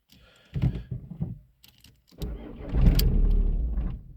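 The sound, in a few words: Seat Leon 1.9 TDI engine starting then stalling, immobiliser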